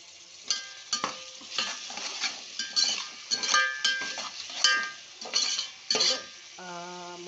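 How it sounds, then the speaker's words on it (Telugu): Onions and green chillies fry in hot oil for a beans rice pulao, with a steady sizzle under repeated scraping and stirring of a utensil against the pan, close and moderately loud, no talk. "ఇవి ఉల్లిపాయ పచ్చిమిరపకాయ మగ్గాలి నూనెలో"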